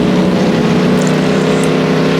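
Pure stock race car engine at Sycamore Speedway, a loud steady harmonic drone held at high revs throughout, close and continuous from inside the car.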